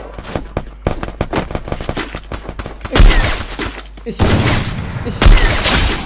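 Sniper rifle fire in a video game: a run of sharp rapid clicks and cracks, followed by several loud, booming shot bursts, close and forceful.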